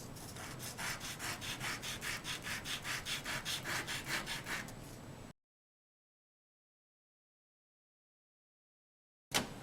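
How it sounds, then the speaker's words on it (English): Dry wet-or-dry sandpaper scrubs a 1/350 scale Klingon Ktinga model part in a fast, even back-and-forth rhythm of about twenty close strokes, then breaks off into silence before a brief closing knock. "wet or dry sandpaper, using it dry, of course, at the moment"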